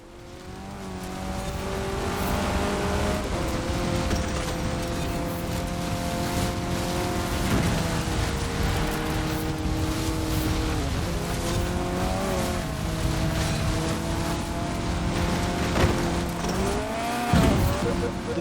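A Fiat rally car in the racing game Forza Horizon 4 drones loudly and continuously, its engine note rising and falling through gear changes, with brief tyre scrubs near the end.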